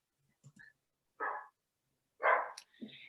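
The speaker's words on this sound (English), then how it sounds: "it's my dog in the background" A pet dog barks in a few short bursts somewhere in the background of a quiet indoor room, the barks spaced irregularly and moderately faint.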